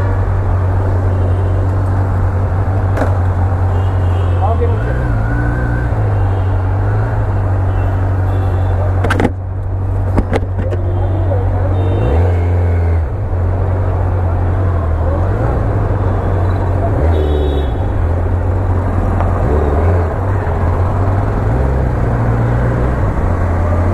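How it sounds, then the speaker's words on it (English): A Kawasaki Z900 motorbike engine runs steadily while being ridden, a loud continuous drone with a low hum and occasional rises in pitch as the throttle shifts, wind noise over it throughout. "this is the highest capacity motorbike I'm riding."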